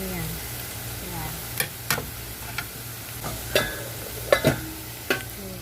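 Beef sizzles in a pan with garlic as it gets stirred, giving a steady low fry with scattered scraping clinks of a utensil against the pan, close and moderately quiet.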